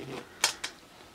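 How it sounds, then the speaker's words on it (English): Two quick, crisp zips sound as an invisible zipper is pulled closed on a small fabric doll skirt, soft and near in an otherwise quiet room. "we can close up our zipper"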